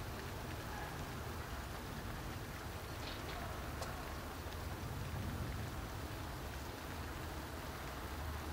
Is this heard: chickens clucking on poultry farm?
no